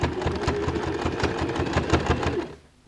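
A sewing machine back stitching denim from recycled jeans for a shopping bag: rapid, even mechanical stitching clatter, close and steady, stopping abruptly near the end.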